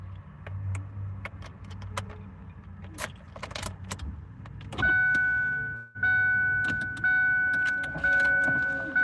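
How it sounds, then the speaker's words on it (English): A car's electric power window closes from inside a parked car used as living space, a steady motor whine starting midway, pausing briefly, then resuming, over low idle rumble and a few earlier jangly clicks. "I close my window so I don't get smoked out."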